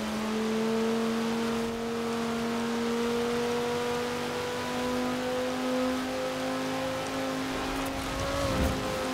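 A 2009 Audi RS 6 engine in Forza Horizon 4 drones steadily at sustained revs, a smooth continuous tone that rises slightly near the end, loud and unbroken with no talk.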